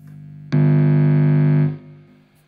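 Electric guitar played through a Vox AC30 50th Anniversary amp with a Guv'nor distortion pedal: one loud, sustained distorted chord rings for about a second then cuts off, leaving a faint hiss of amp noise.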